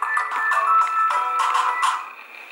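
A telephone rings in a quiet room, a steady electronic ringtone with repeated pulsing tones for about two seconds before trailing off.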